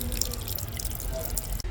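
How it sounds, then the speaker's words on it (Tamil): Aloe vera gel rinsed under a running kitchen tap, with a steady wash of flowing water and dripping splashes close by throughout, no voices. "பாருங்கள், நம்ம ரன்னிங் வாட்டரில் நல்லா இதை ஃபுல்லாக கழுவ போகிறோம்."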